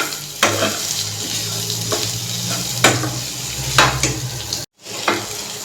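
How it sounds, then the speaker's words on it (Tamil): Spiced potato masala sizzles steadily in a pan while a spoon stirs it, with a few distinct scraping strokes over the constant frying hiss and a brief break near the end. "இதை நல்லா இந்த மாதிரி மிக்ஸ் பண்ணி எடுத்துக்கோங்க"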